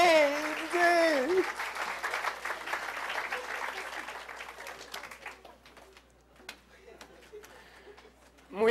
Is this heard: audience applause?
yes